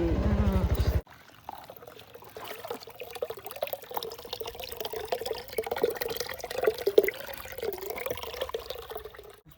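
Water splashes and pours over freshly picked raw mangoes from a home tree, a steady wet sloshing after a brief voice at the start.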